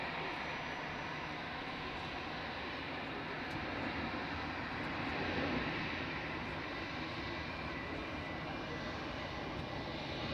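Jet airliner engines rumble steadily from the observation deck at Zurich airport, a broad continuous roar that swells slightly midway, distant and sustained with no clear talk over it.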